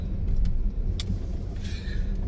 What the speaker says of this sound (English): I'm going to go park the car in the back